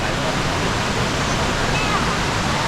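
Khlong Lan waterfall in Kamphaeng Phet roaring as a dense, constant wash of splashing water, loud and close, filling the whole stretch without a break.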